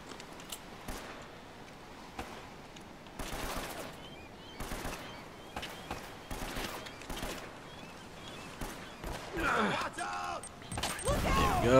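Gunfire and explosions in the game Uncharted: Drake's Fortune, with irregular bursts of shots and blasts, moderately loud, mixed with game sounds and a voice talking over them.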